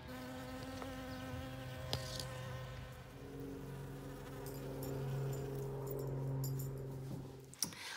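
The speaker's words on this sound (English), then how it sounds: "I actually took a video of some bees in my backyard today" Bees buzzing in a backyard, a steady close drone with wings sweeping nearer and farther, pitch shifting as insects move around, no voices.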